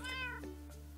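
A single short meow from a Minecraft cat sounds up close over a steady low electronic hum, with no voices.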